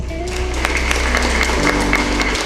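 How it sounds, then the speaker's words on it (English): Applause from the gathering at a school felicitation ceremony honouring fire department staff, a steady wash of clapping over a low hum lasting throughout. "Let us once again give all the winners a thunderous applause."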